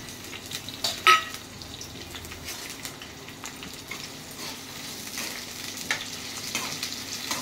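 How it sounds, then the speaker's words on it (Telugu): Onions fry in hot oil with a steady close sizzle, interrupted by a few utensil knocks and clinks against the pan early on, with no voices. "నూనె పోసుకున్నాక కాలినాక ఉల్లిగడ్డలు వేసుకోవాలి."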